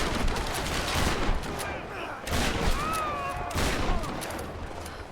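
Enemy gunfire in the video game Tomb Raider (2013), three loud bursts of rapid shots with brief gaps, close and dense, over ambient game noise.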